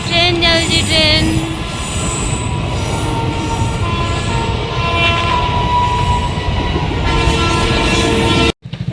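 A passing train rumbles loudly and continuously, its horn sounding in long tones at the start and again near the end, with wheels and wagons clattering throughout.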